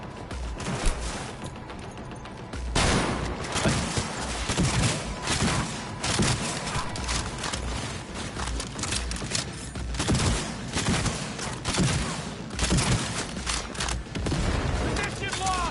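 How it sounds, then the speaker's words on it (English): Enemy units in Cyberpunk 2077 open fire in repeated bursts of gunfire with sharp cracks and heavier thumps. The shooting comes in clustered volleys over about sixteen seconds, mixed with battle noise and occasional voices. "All units report. Opening fire."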